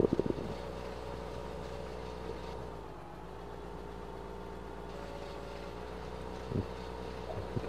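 In Farming Simulator 15, a tractor strains to pull a heavy trailer, its engine droning steadily throughout with a brief dip midway and a few clunks at the start and near the end.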